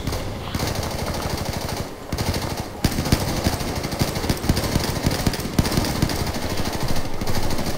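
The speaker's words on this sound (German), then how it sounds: "Wo kommen die Schüsse her?" Rapid automatic gunfire rattles in long bursts in Battlefield 4, loud and close, with brief pauses between volleys and a dense battlefield din underneath.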